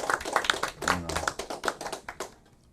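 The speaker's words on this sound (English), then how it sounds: "everybody give them a round of applause" Audience applause at an honoring event: scattered, fairly close hand claps with an uneven rhythm, a voice briefly audible partway through, trailing off into quiet near the end.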